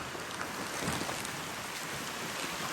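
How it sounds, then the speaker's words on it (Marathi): Steady, dense roar of wind and rain battering outdoors, a continuous broadband wash with gusty surges and no voices. "वाऱ्या सकट पाऊस आला बघ"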